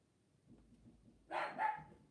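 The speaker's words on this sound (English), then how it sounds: "Excuse the dog, somebody's just knocked at the door." A dog indoors gives two quick barks near the end, moderately loud after quiet background, no talk.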